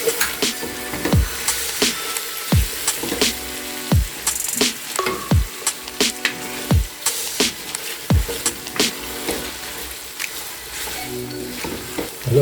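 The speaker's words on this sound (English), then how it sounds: "And now add the mashed garlic and ginger." Mashed garlic and ginger sizzle steadily in a hot pan for pilau, with a utensil scraping and stirring through it in repeated sweeps, close and fairly loud, with no voices.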